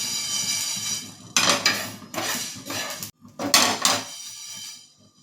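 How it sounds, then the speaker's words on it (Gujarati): Fenugreek seeds roast in a pan over a gas flame while a utensil stirs them, making several bursts of close scraping and rattling clatter separated by brief pauses. "જ્યારે મેથી આપણે આ રીતે તતડવા લાગે ત્યારે આપણે ગેસની આંચ ધીમી કરીશું અને આને આ રીતે હલાવી લેશું"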